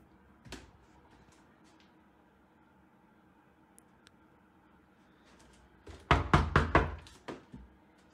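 Knocking on a door or wall in a supposedly haunted place: one faint knock early, then a loud burst of several rapid knocks near the end, with faint voices around.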